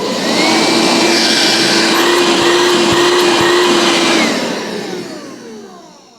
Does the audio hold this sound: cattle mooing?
no